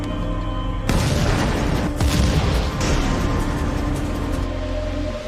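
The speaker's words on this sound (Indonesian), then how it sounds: "segera menekan ranjau hingga satu demi satu meledak." Landmines detonate in a heavy, continuous roar, with a loud boom starting about a second in and further blasts layered on top, dense and close throughout.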